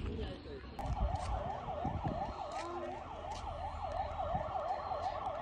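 A police car siren wails at a steady, rapid up-and-down pitch, moderately distant, during a large night fire in Kahu Dada, Pokhara, with crowd noise and occasional voices underneath.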